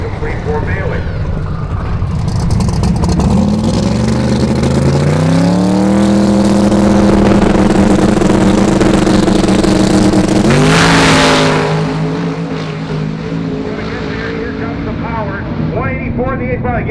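A drag race car launches and accelerates down the strip during Drag Week, its engine note climbing steeply and screaming loud for several seconds before a sharp shift-like break and fade as it pulls away, with voices talking throughout.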